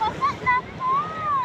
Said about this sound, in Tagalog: Yeah, dito na kami sa dagat.